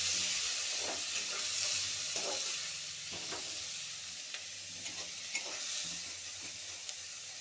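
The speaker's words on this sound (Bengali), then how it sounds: "ওই তেলের মধ্যে আমি কালো জিরে ফড়ন দিয়ে দিলাম এবং পেঁয়াজ কুচিটা দিয়ে দেব।" Chopped onion and black cumin seeds frying in hot oil for a Bengali fish curry, giving a steady soft sizzle with occasional stirring clicks and scrapes, fairly faint and without talk.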